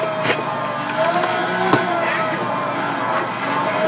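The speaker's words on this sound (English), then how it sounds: "I'm driving a 300ZX. This is the 1989 twin turbo." A twin turbo 1989 Nissan 300ZX engine in Gran Turismo 6 drones steadily at a constant pitch, loud and close, with a brief sharp click near the middle.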